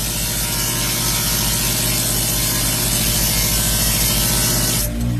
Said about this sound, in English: you can see how it's filing down and cleaning off your polishing wheel